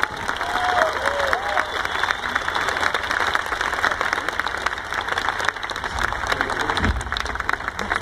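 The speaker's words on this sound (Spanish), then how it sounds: "Quiero pediros un aplauso para vosotros mismos" Comedy show audience in Lima applauding and cheering steadily for the whole stretch, a dense, sustained wash of clapping with a few whistles and shouts.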